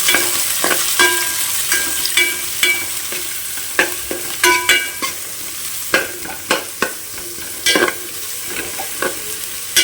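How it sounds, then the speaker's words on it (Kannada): Chopped onions sizzle in hot oil for a bondas sukka, with steady frying hiss broken by frequent clinks and scrapes of a spoon stirring in the pan, close and fairly loud, no talking. "ಈಗ ನಾನು ಈರುಳ್ಳಿಯನ್ನು ಹಾಕ್ತಾ ಇದ್ದೇನೆ, ಆವಾಗಲೇ ಕಟ್ ಮಾಡಿರುವಂಥ ಈರುಳ್ಳಿ."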